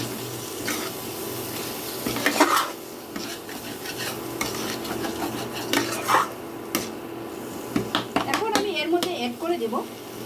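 Salt being stirred into spices frying in oil in a pan while cooking a rohu fish head muri ghonto, with rasping, scraping spoon strokes against the pan at close range. Bursts of clatter come and go under a low kitchen background.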